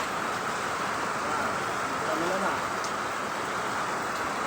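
Steady rain falls on a construction site during the rainy season, a continuous broadband hiss with no break across the stretch and nobody speaking.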